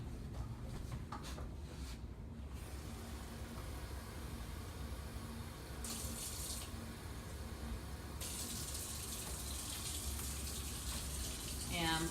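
Tap water runs steadily into a measuring cup in a home kitchen while chicken chili is prepared, a soft continuous gushing stream heard close but at low volume.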